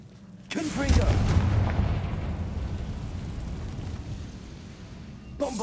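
A Bombarda explosion spell goes off in Hogwarts Legacy with a sudden heavy boom, and a long rumbling, debris-like roar follows. A second sharp blast cuts in near the end.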